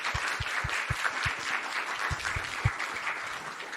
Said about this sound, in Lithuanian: Plojimai jiems.